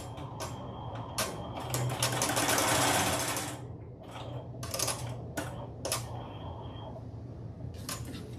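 An embroidery machine stitching the snap placement on an in-the-hoop zipper bag, a rapid mechanical clatter in quick bursts separated by brief pauses, close and steady.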